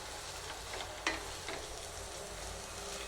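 Ingredients sauté slowly in a little oil in a pan while making spicy peanut chutney. A quiet, even sizzle hisses throughout, with one sharp tap from a utensil midway.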